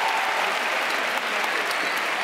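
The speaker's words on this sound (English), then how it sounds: "Give them an applause, please." Audience applause at a university convocation, a dense, steady wash of clapping from a large crowd that holds evenly for a couple of seconds.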